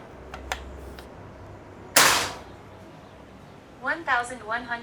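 A single sharp shot from a PCP air rifle cracks out loud and close in a quiet room, followed shortly by a few brief spoken words.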